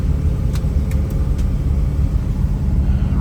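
A 1970 Dodge Monaco woodgrain wagon with a 440 engine cruises down the road, a loud, steady low rumble of engine and road noise heard from inside, with a few faint rattles and no one talking.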